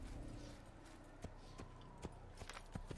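Horse hooves clip-clop at a walk in Assassin's Creed, faint scattered hoof strikes over a dense, steady game ambience.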